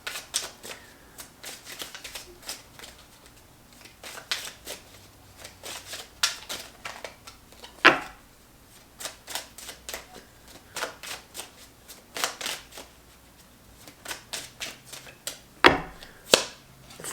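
Tarot cards being shuffled: repeated crisp riffles and taps in irregular bursts, close and clear, with no talk.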